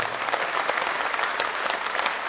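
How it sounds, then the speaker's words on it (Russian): An audience claps for a children's dance performance at a folk dance studio concert, dense, steady applause filling the hall at close range without a break. "не надо сдерживаться, аплодируйте"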